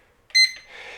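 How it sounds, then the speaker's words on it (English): A Hubsan H122D X4 Storm quadcopter transmitter gives one short, bright electronic beep as recording starts, close and clear against a quiet background and followed by a faint hiss. "we have a beep."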